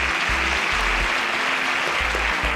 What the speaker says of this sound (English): A round of applause for Juwon.